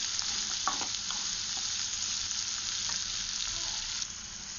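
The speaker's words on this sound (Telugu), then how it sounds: "చూడండి, ఇప్పుడు ఆనియన్స్ సగం వేగినవి" Small-cut onions frying in a pan for an ivy gourd masala curry, giving a fairly quiet, even sizzle with occasional faint stirring clicks and no voices.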